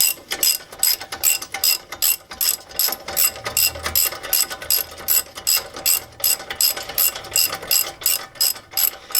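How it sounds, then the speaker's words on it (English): A ratchet torque wrench clicks steadily while tightening brake caliper bolts to spec, a close, loud run of rapid ratcheting bursts repeating in an even back-and-forth rhythm with no talk. "just torque it down to 98 foot-pounds"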